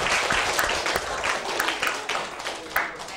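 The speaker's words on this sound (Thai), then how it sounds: "ตบมือให้คนที่ตอบว่าอยู่ในท้อง" Students in a school health-education classroom clap together in a dense, steady burst of applause, close and fairly loud, lasting a few seconds without break.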